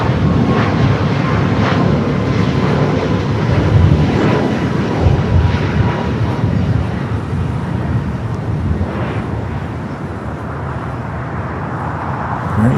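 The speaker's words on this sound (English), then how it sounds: "Next takeoff here on the south side of flight to SFO is 737 and MAX 9 with United" United Boeing 737 MAX 9 taking off at LAX, a loud continuous broadband jet roar holding steady and easing slightly over the span, heard from outside near the airfield.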